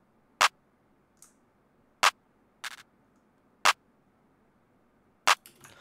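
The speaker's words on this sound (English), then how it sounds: "The clap is nothing out of the ordinary." A plain clap sample in a beat's drum pattern hits as sharp, dry single strikes about every second and a half, with faint softer ticks between hits and no voices.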